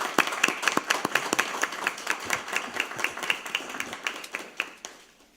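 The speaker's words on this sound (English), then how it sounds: "Let's give them a round of applause as they come." A room at a school board meeting claps for a girls junior basketball championship team, with brisk, sustained clapping from a modest crowd that thins and fades out at the end.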